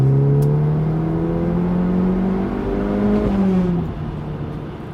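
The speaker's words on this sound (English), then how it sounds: "let you listen to the engine note" An Audi S3 engine accelerating hard along a straight road, heard loud and close from inside the car, with a smooth rising engine note that climbs and then eases off near the end, and no talking.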